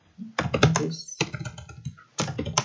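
Rapid typing on a computer keyboard comes close and fairly loud, with dense clicking bursts, a brief pause, then another flurry of keystrokes.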